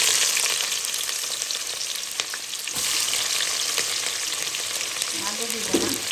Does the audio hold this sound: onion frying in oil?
yes